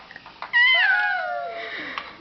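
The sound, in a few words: child imitating a cat's meow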